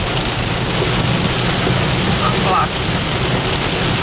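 Heavy rain pounds steadily on a vehicle driving on a highway near the Goiás–Tocantins border, a loud, continuous dense hiss over road rumble, while someone speaks briefly.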